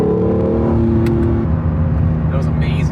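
A rented Honda NSX accelerating hard on a mountain touge road in Japan, its loud engine note rising and shifting continuously from up close inside the cabin.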